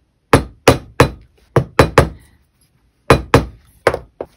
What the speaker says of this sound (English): Just a couple whacks will flatten that out nice and give it sturdiness it needs.